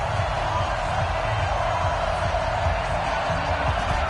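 A sold-out stadium crowd roars in a PS4 football video game as the Bills meet the San Francisco 49ers, a dense, steady wash of cheering that holds constant and loud throughout without clear breaks or single voices.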